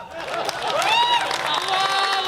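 An audience at a live Hindi speech bursts into clapping and cheering, with whistles and raised voices riding over steady applause that swells and holds for the whole stretch.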